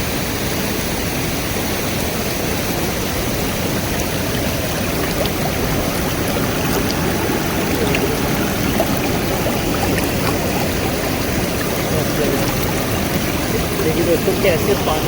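A forest stream flows near a waterfall in Jim Corbett National Park. Water rushes in a steady, dense wash that holds constant throughout, with a voice talking faintly beneath it.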